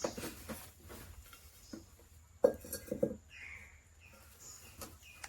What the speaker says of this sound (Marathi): मी ठेवतो चुलीवर पातेली